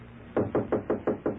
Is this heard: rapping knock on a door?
yes